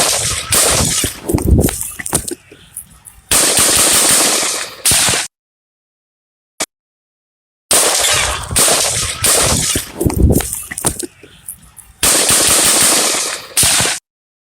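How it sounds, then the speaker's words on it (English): Rapid bursts of loud gunfire, two long volleys of repeated shots separated by a silent gap, with a single isolated crack in between. "everybody's saying they can hear a difference in the gunshots."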